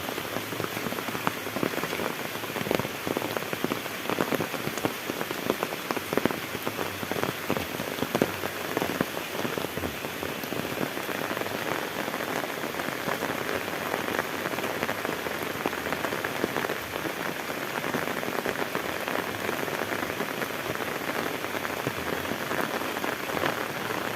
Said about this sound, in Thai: ฝนกำลังตก